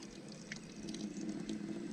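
Water runs steadily from a free public drinking tap in a Japanese park in winter, a soft continuous splashing stream heard close and alone, without talk, for about two seconds.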